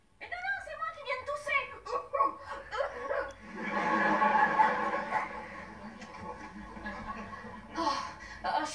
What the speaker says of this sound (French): là, on l'entend aboyer